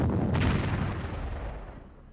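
Artillery fire in the wartime strategy video game Panzer Corps: a loud, close burst of booming gunfire whose rumble decays over about two seconds, with no talk over it.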